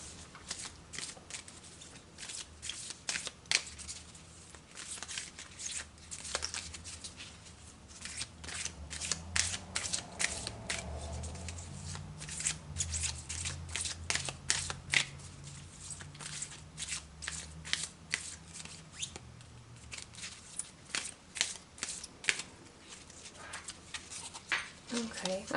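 Oracle cards being shuffled by hand, a steady run of crisp riffling and flicking bursts close to the listener, lasting a long stretch while a voice talks quietly underneath.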